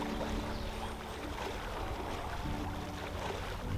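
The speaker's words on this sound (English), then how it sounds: "and our squeaky boat." A small sailboat creaks and squeaks as it glides slowly over quiet, still water, with soft water lapping and faint rigging noises close by, steady and gentle, no talk.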